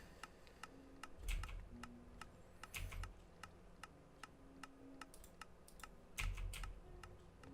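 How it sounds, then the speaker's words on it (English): Rapid mouse and keyboard clicks from playing a computer game, a steady run of sharp, close ticks at an even rhythm with a few louder bursts of keys, no talking. "so that clicking that you hear when I go back in here"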